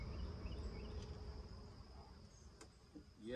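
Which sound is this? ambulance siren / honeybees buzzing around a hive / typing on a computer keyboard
honeybees buzzing around a hive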